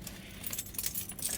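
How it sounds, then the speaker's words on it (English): A set of keys for a 2001 Ford Expedition Eddie Bauer with a 5.4 Triton engine jangles close up in a brief, bright metallic rattle with uneven shakes, and no one speaks. "I have two sets of keys."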